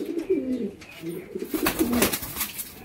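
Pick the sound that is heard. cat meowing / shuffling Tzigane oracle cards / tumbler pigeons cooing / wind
tumbler pigeons cooing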